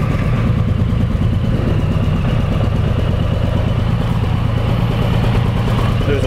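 A 2008 Suzuki C109R motorcycle engine idles steadily and close by, a loud continuous low rumble with a rapid pulsing throb that holds even for several seconds, with no speech.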